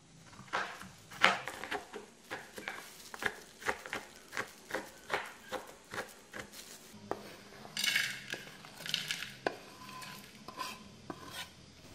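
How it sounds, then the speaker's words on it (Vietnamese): A knife breaks a block of palm sugar into small pieces, giving a steady series of sharp, close taps and clicks on a hard surface, roughly every half second, with a few scraping sounds near the end. "mình sẽ đi cắt nhỏ cái đường thốt nốt này ra để mình thắng cái nước đường á"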